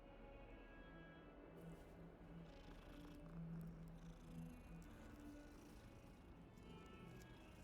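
A cat in Hogwarts Legacy purrs steadily while being petted, a soft continuous rumbling purr, close and quiet, with no talking over it.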